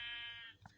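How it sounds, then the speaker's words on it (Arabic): A sheep bleats in the Minecraft video game, a single short synthetic bleat lasting about half a second, followed by a brief fainter blip, with no talk. "خروف حلو قوي ده"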